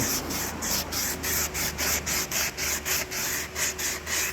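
Heavy-grit sandpaper works the carved contour of a Strat-type guitar body in a steady run of close, rhythmic rasping strokes, about two per second, with no talking.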